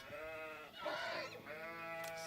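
A sheep bleats in the Age of Empires video game: a single drawn-out, wavering bleat heard clearly over a steady hum of game background sound.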